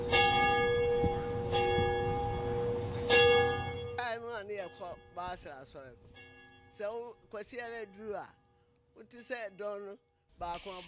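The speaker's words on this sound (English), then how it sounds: "church bells helped to tell the time of day, rang for happy occasions as well as warned of danger" A church bell tolls with ringing, sustained strikes for the first few seconds, then fades as a person speaks over the lingering tail.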